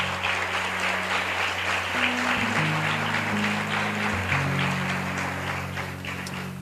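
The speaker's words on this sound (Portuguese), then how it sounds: "se você puder aplaudir o Senhor por essa palavra." A congregation at a Wednesday evening church service applauds steadily throughout, a dense crowd of clapping under a sustained, shifting organ or keyboard chord.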